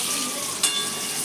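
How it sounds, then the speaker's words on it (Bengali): Eggplant (brinjal) slices shallow-frying in a pan, a steady close hiss and sizzle with one brief louder crackle midway, no voices. "এই যে বেগুন ভাজা হচ্ছে"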